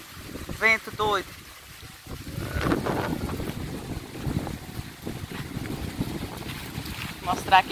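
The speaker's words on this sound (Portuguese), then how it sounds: "Vento doido." Strong gusty wind roars against the microphone outdoors among mango trees, a continuous rough rumble with a few sharper bursts, and a person speaks over it.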